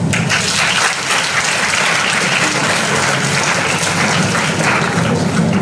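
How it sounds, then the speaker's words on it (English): An audience at a school cultural festival greets performers with loud, dense applause, a continuous roar of many hands clapping at close range, steady throughout with no talk. "Please greet them with thunderous applause."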